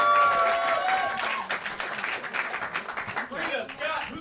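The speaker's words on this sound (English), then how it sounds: "Please clap it up for the very funny Pria Blunts," An audience at a New York comedy roast battle show bursts into applause and clapping that starts loud and holds steady, then breaks into uneven rippling claps with a few crowd cheers.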